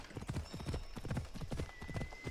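Flaming horse hooves clip-clop in Assassin's Creed Odyssey, a quick, steady rhythm of hoofbeats, fairly faint and continuous over a soft background.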